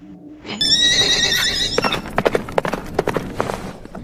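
A horse whinnies loudly in a long, bright neigh, then hooves pound in an irregular galloping clatter close by, in a Hindi-dubbed anime scene.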